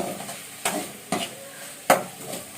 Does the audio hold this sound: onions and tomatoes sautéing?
yes